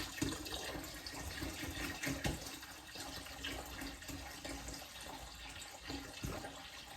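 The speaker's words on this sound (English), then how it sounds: "I'm just going to top it up with about 3 litres of water, maybe just a little bit less" Water poured steadily into a fermenting vessel of redcurrant wine and berries, a continuous rushing splash at moderate level throughout.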